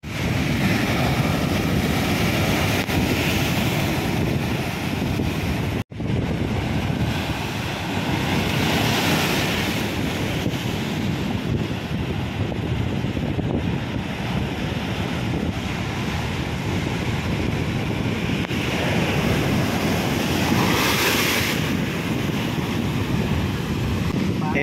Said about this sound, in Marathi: लाटा उचलतात त्यामुळे आता ते थांबून राहिलेले आहेत तिथे.